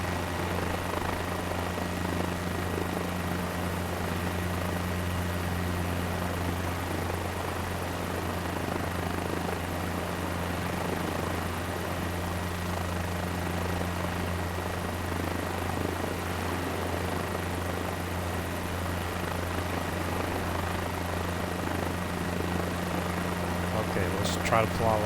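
Helicopter in Microsoft Flight Simulator, touring a beachfront estate, gives a constant droning rotor and engine roar that stays loud and even throughout.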